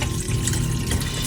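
Water cascading inside a GE undercounter icemaker, a close, steady splashing trickle with a bubbling undertone, brief and uninterrupted.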